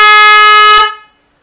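Harley-Davidson Sport Glide motorcycle with a 410 Hz horn giving one loud, close blast, a steady honk held for about three quarters of a second, then decaying quickly to silence.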